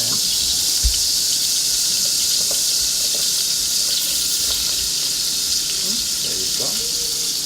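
About three ounces of onions sizzling in a hot pan, a steady bright hiss of frying throughout with faint clinks and someone speaking briefly over it.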